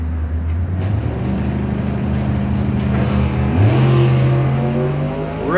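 Drag racing cars idle and then rev during the final round of the RET Racing Engine Technologies Pro Trophy class, with rising engine tones and a loud, close roar and no voices.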